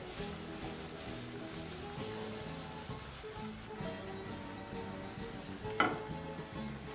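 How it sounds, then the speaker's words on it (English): Ingredients with basil are stirred together in a pan for feijoada, a faint steady sizzle under soft rhythmic stirring, with one sharp clink near the end. "proceed to mix your ingredients together"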